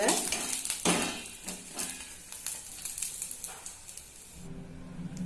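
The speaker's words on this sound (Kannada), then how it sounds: "ಕಡಾಯಿ ಬಿಸಿ ಐತಿ ಅಲ್ರಿ, ಇನ್ನೊಂದ್ ಸ್ವಲ್ಪ ಚಂದ ಫ್ರೈ ಆಗ್ತಾವ್ರಿ" Green chillies frying in a hot kadai with the gas switched off, a crackling sizzle with spoon scrapes and clinks against the metal, the frying fading toward the end.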